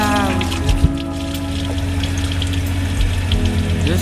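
Water runs steadily through the pump and plumbing of a renovated shuttle bus's water system, a constant close hum with a tonal mechanical drone, briefly broken by a knock near the start.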